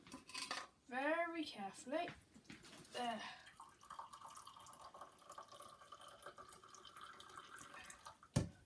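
Boiling water is poured from a kettle into a cup for tea. A steady, moderately close pouring rush follows a few spoken words and ends with a sharp clink.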